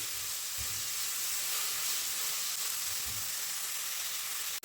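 Onion sautéing in a pan for green chilli egg bhurji gives a steady, close frying sizzle and hiss throughout, with a few soft low knocks and no voices.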